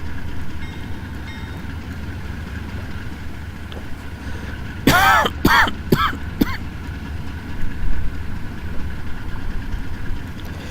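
An F40PH locomotive with head-end power idles in the Trainz video game, a steady low diesel rumble with a burst of sharp squealing tones partway through.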